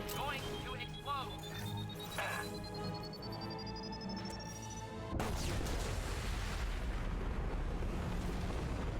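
A loud explosion blasts through the Mass Effect 2 game soundtrack, a sudden heavy burst midway that leaves a dense roaring rumble behind it, with talk, a rising electronic whine and other effects heard before it.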